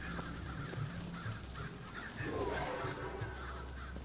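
Crows cawing in the video game Bioshock Infinite, several harsh calls scattered across a busy game soundscape at moderate distance, with no talk over them.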